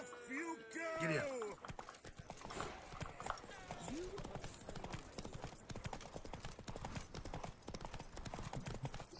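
Horse hooves clip-clop in a fast, steady rhythm during a race in The Witcher 3, with a brief whinny and shouting voices at the start, hoofbeats continuing throughout.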